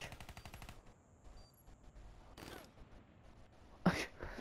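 A gunshot in the first-person shooter Black Ops 3 arena mode: a short, sharp burst of game fire follows a few seconds of music, with a second loud crack near the end amid in-game noise.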